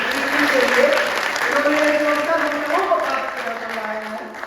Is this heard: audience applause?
yes